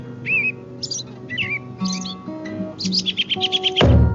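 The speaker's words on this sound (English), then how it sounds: "Beautiful bird." A bird chirps and tweets in quick, varied bursts of bright, warbling notes, close and clear, ending in a rapid run of calls before a sudden rustling noise cuts in.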